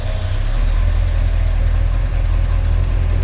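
A 1969 GTO Judge V8 engine idles steadily up close, a deep low rumble with an even throbbing pulse that holds for a few seconds without revving.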